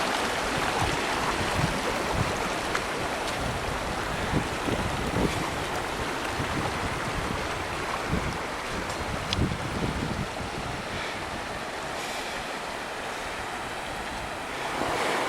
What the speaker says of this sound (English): we are walking right above flowing water.